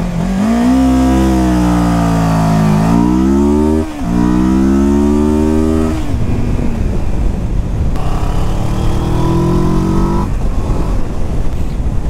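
A loud Kawasaki Versys 650 (2022) motorcycle engine revs up through several gears, pitch climbing then dropping at each shift, close and continuous.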